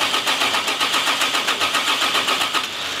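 A Toyota Supra MK4 with a 2JZ engine and engine damage cranks on the starter during a compression check, a steady rhythmic chugging pulse, close and loud, with no talking.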